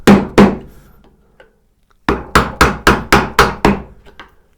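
A woodworking chisel chops into wood clamped in a bench vise in a workshop, struck with a mallet. Two sharp hits come first, then after a pause a quick, even run of seven loud close blows, with a few faint taps trailing off.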